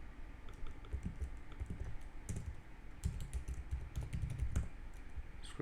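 Product description being typed for an online nail-supply store on a computer keyboard, a quiet close run of irregular key clicks in bursts with no talking.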